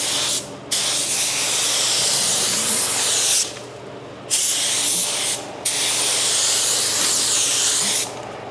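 An InoKraft Drizzle Pro paint sprayer lays down a coat in loud, close hissing bursts lasting several seconds each, separated by brief pauses.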